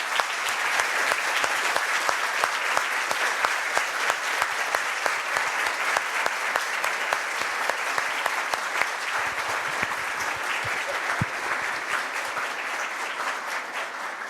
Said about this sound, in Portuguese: Vamos aplaudir ao Senhor pela vida da...